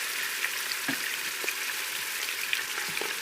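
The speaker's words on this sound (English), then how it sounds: "You try to sear that on all sides." Meat searing in a Crux pressure cooker: a steady close hiss of sizzling fat with faint pops and occasional soft scrapes as pieces are turned, no talk.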